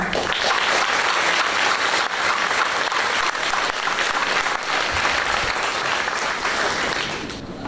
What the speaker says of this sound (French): J'aimerais qu'on vous donne une bonne main d'applaudissements